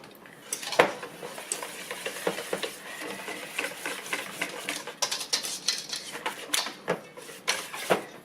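A utensil scraping dough batter for homemade rolls from the side of a bowl, producing close, irregular scrapes and clinks against the bowl with short pauses between strokes and no talking.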